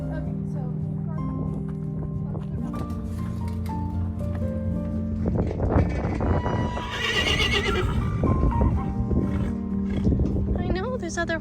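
A mustang whinnies loudly amid steady low rumbling and a person talking nearby, with a second shrill neigh rising toward the end.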